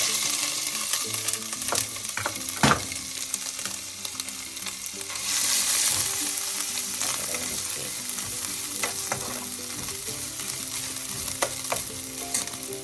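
Crushed ginger and garlic frying in hot oil, a continuous crackling sizzle with sharp pops and stirring scrapes, close and alone.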